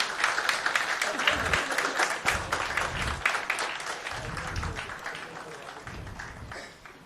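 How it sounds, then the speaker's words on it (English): An audience applauds at a formal ceremony honouring a retired tax official. The dense, steady clapping fills the room and gradually fades toward the end. "Ladies and gentlemen, a big round of applause to Dr. Narendra Kumar sir."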